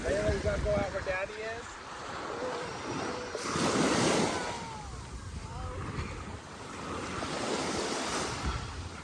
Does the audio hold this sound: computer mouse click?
no